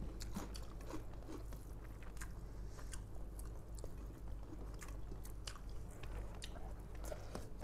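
Close, soft chewing and crunching of fried biryani, steady mouth sounds with small bites and squishes throughout, fairly quiet and with no talking.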